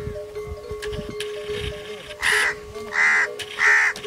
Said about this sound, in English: the crows are disturbing them.